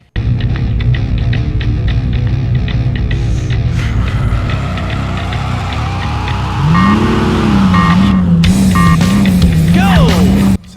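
Off-road vehicle engine from the PS2 racing game Off-Road Wide Open: a loud, steady motor drone throughout, with a revving, wavering pitch and tire noise in the second half before it cuts off.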